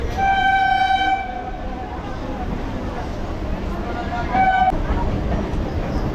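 A local train horn sounds in a long blast, then again briefly later, over the steady rumble of a moving train carriage on the Sealdah to Namkhana line.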